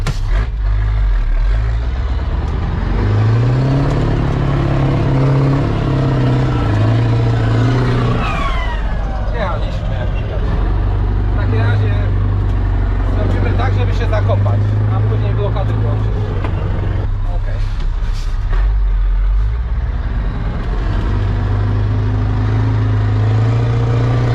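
A Scania 6x6 V8 truck in all-wheel drive pulls off-road with a heavy, loud engine roar that rises and falls as it revs and shifts, with someone talking over it.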